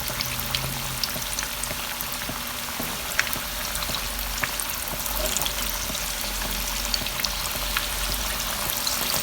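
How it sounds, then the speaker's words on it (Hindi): Pieces of fish, Lahori-style masala fish, fry in hot oil with a continuous dense crackle and popping that holds level and close throughout, and no voices. "तो हम एक एक करके अब इसमें फ़िश डालते हैं।"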